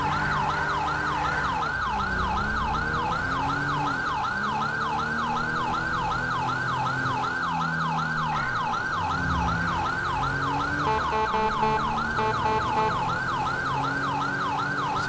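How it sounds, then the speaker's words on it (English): A Whelan Cencom Sapphire police siren in the LSPDFR police game wails steadily and loudly for the whole span, cycling rapidly up and down, then shifting to a faster yelp pattern near the end, over a low engine drone. "So the siren I'm using is a Whelan Cencom Sapphire siren."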